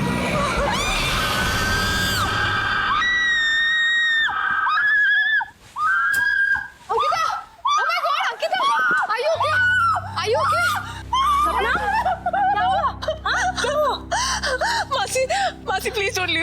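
A girl screams loudly and at length in a Hindi horror drama, with wailing, gasping cries and then frightened sobbing and pleading under music and other voices.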